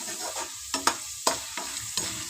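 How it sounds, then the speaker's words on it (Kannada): Fresh green peas frying in hot oil with a steady sizzle, broken by several sharp spluttering pops and cracks at irregular intervals, close up with no talking. "ಈ ಥರ ಎಲ್ಲ ಸಿಡ್ದಿದೆ ನೋಡಿ ಈ ಥರ ಎಲ್ಲ ಬಟಾಣಿ ಬೇಳೆ ಥರ ಆಗುತ್ತೆ ಅದು ಸಿಡಿದು"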